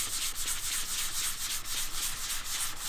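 Sandpaper rubs in small circular strokes over a car grill to roughen it before spray priming, a close, steady scratchy hiss with a quick repeating rhythm.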